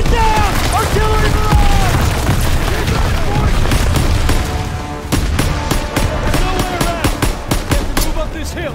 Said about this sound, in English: Get down! Artillery!